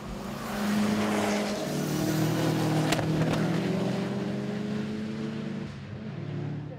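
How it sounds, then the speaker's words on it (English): Saloon race cars battle through the hairpin at Oulton Park in a Group B contest, engines droning steadily near and loud with overlapping revs, shifting pitch and brief sharper bursts as cars pass close by. "Thomas first, then Froggatt leads Barnes into the hairpin."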